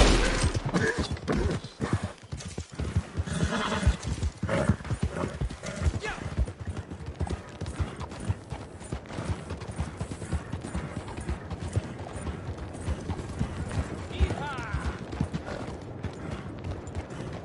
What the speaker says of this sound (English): Get that horse hidden away, Clive